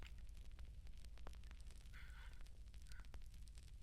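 A fire in an inn hearth crackles softly with faint, scattered pops and snaps over a low steady hush. It sounds quiet and close, with no talk.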